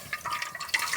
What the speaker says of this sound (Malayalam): ശർക്കര വെള്ളമാണ് നമ്മൾ ഇതിലേക്ക് ഒഴിക്കുന്നത്.